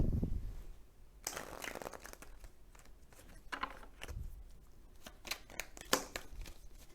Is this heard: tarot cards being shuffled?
yes